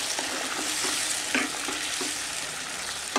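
Hot water meets frying potato and pointed gourd curry in a pan, producing a loud, dense hiss and sizzle with a few brief stirring knocks, close throughout.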